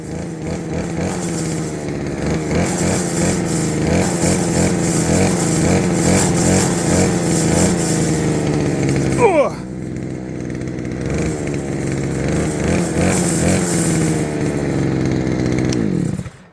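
A motorized scythe's small two-stroke engine buzzes loudly and steadily nearby, briefly dropping in pitch midway before picking up again and cutting off at the end.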